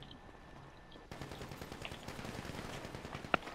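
Automatic gunfire from a GTA V shootout, a dense, steady crackle of rapid shots running on after a quieter opening, with one sharper crack near the end.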